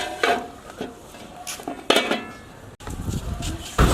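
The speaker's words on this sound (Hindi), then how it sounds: "मिक्स कर लेने के बाद ऊपर ढक्कन लगा देंगे" A metal lid is set onto a cooking pot of pulao rice, giving a few clanks and scrapes of metal on metal over low kitchen background noise.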